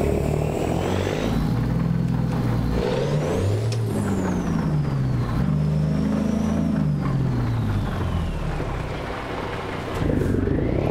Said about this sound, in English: Oh, the engine's already on.